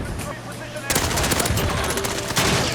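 AS VAL rifle gunfire in a Call of Duty: Modern Warfare multiplayer match, a loud rapid burst that opens abruptly and runs as continuous automatic fire to the end, layered with game noise.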